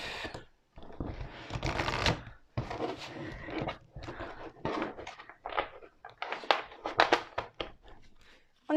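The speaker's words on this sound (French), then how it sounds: "on va poser la carte et on va commencer le tirage" Tarot cards are shuffled and handled, a series of crisp riffling and slapping bursts with short pauses between them, close and moderately loud.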